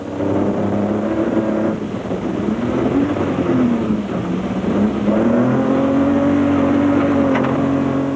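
A Castrol Toyota Land Cruiser rally car at the 2001 Carnival City 400 rally drives off with a loud, close engine that revs up and down and rises in pitch as it pulls away.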